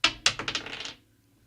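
Dice tumbling across a table during a sports betting show, a quick burst of sharp clicks and clatter that settles within about a second, close and fairly loud.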